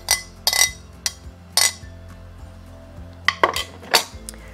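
Utensils clink against a bowl while red fish salad is gently mixed, a series of sharp irregular metallic taps and scrapes, close and clear with quiet gaps between, no talking.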